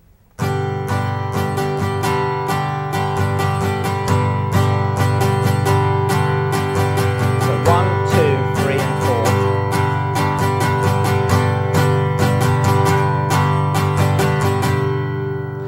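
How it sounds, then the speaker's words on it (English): An acoustic guitar strums a single chord over and over in a steady rhythmic pattern of down and up strokes, bright and sustained, with no voices. "So I'm just going to play it with 1 chord to begin with"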